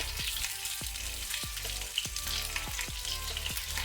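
Minced garlic and chopped ginger frying in a pan, a steady loud sizzle with a run of sharp stirring scrapes and clicks, no voices.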